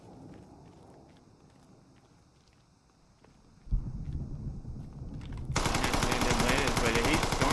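Gunfire in the tactical shooter game Squad on the Kamdesh map, starting with faint distant shots and footsteps, then a sudden loud burst of close rapid automatic fire that grows denser and louder toward the end.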